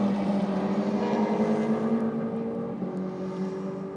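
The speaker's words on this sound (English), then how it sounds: "Evo looks like it's rolling through the gears pretty well down there" A wide-body Mitsubishi Evo at a roll racing event accelerates through the gears off in the distance, a steady rising engine drone that dips slightly near the end, with no voices.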